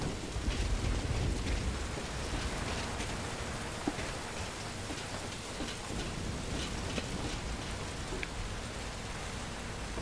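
Steady heavy rain in Metal Gear Solid V: Ground Zeroes, a dense continuous hiss of drops beating on surfaces with a low rumble underneath, even and unbroken throughout.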